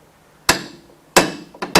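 A RIDGID 535M threading machine's chuck hammers its jaws onto pipe: three sharp metallic knocks with a small tap between them, close and loud against near silence.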